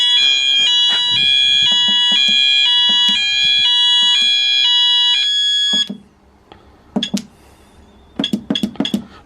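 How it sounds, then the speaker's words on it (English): A building fire alarm sounds during a routine test, ringing a steady repeating electronic tone pattern for about six seconds before cutting off. A few sharp clicks and clinks follow as the panel is reset. "And that's the fire alarms checked, both buildings."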